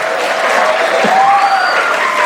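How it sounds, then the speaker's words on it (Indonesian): Audience applause at a school Maulid Nabi commemoration, a steady, dense wash of clapping that stays loud and even throughout. "Kasih tepuk tangan dulu."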